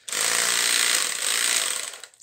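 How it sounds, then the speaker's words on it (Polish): A 10.8 V cordless jigsaw with a reciprocating saw function runs loudly and steadily for about two seconds, a close, dense buzzing whir that then winds down. "Ona to jest wyżynarka z funkcją piły szablastej."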